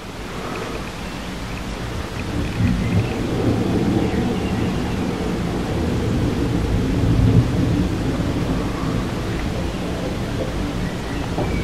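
A thunderstorm over Bradford, UK, with hail nearby: a long, low rolling rumble of thunder swelling and fading under a wash of steady rain-like noise, no speech.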